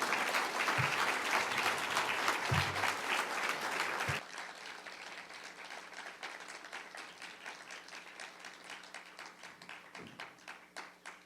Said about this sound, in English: You could give them a round of applause now